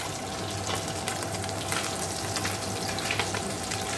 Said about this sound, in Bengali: এখানে দেখো আমি মাছ ভাজছি